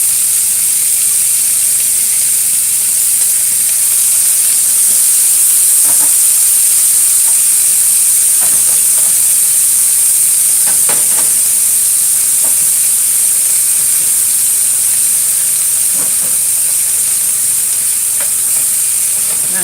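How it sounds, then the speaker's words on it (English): Red pepper and celery sautéing in a pan for scallop cakes, a constant loud hiss of frying with occasional soft scrapes and stirring knocks throughout, close up. "And just quickly saute these veggies to make sure that they are somewhat semi-cooked."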